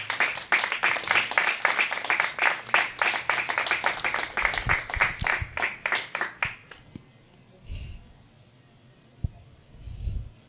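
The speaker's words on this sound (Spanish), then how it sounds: "Denle un aplauso a él." Church congregation applauding, a dense run of many hands clapping for about seven seconds before it thins out and stops, leaving a few scattered claps and quiet room sounds.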